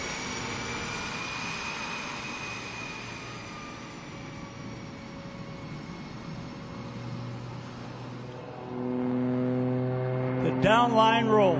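A propeller aerobatic airplane at an air show rolls into knife-edge flight and climbs. Its engine drones steadily at a distance and then swells louder and rougher near the end, with no talk over it.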